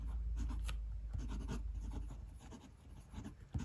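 An Edison Ascent fountain pen writes on paper, making close, quiet scratching strokes in short irregular bursts.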